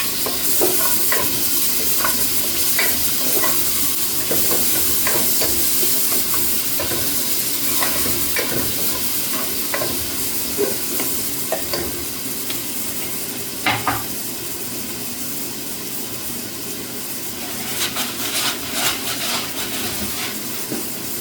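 Tomatoes added to a simmering chicken stew sizzle steadily in the pan, broken by repeated clacks and scrapes of stirring, close up and with no one speaking.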